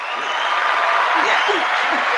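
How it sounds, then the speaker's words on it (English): An audience claps in a dense, steady wash of applause throughout, loud and close, with a voice briefly audible over it. "Let's give a round of applause."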